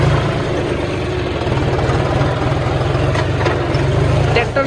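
A 16-year-old tractor's engine runs close by with a steady, loud, low-pitched diesel chug and a fast regular rhythm, constant throughout with no clear voices.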